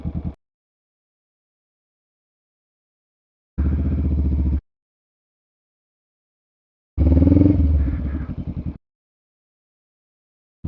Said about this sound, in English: I'm gonna let the clutch go off into the friction zone, give gas, and release the brake